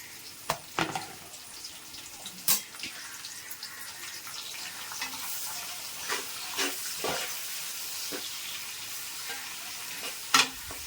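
Chopped onions frying in a pot for mutton biryani, stirred now and then: a soft, steady sizzle at low volume with a few sharp spoon clinks against the pan and no talking.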